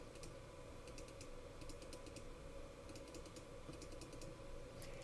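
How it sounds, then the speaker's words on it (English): Buttons pressed on a calculator to enter a number, quick clusters of faint plastic taps in short bursts over a low background hum. "In your calculator, let me just bring this in. If I were to type in this number,"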